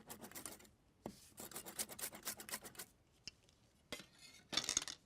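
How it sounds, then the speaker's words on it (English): A knife chops fresh parsley and mint on a board in bursts of rapid, quiet, crisp taps, close and alone. "A herbal hit of parsley and fresh mint. And get chopping."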